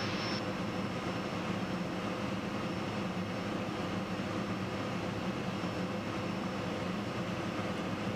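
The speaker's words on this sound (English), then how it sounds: "I can't get over how quiet it is inside this airplane." Inside the cabin of a Cirrus Vision Jet in flight, a steady, even engine and airflow hum holds at a low, quiet level throughout, with a faint high whine and no voices.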